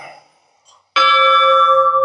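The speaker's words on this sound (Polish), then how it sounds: "Uwaga, dzwon." A bell struck once after a brief quiet murmur, ringing out loud and close with a bright sustained tone that hangs on steadily, on Crete in Greece.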